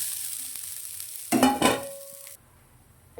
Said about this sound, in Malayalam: നമുക്കിതൊന്ന് വറുത്തെടുക്കാം കേട്ടോ